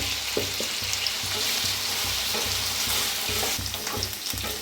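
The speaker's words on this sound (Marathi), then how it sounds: "छान असं बटाटो भाजून घ्यायला लागलेले आहे" Potatoes frying in mustard oil with salt, a close, steady sizzle broken by regular scraping stirs of a spatula against the pan.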